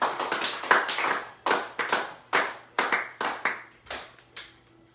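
Congregation in a church clapping together in short bursts of rhythmic applause, several waves of hand claps rising and fading over a few seconds, fairly close and without talk, ending in quiet.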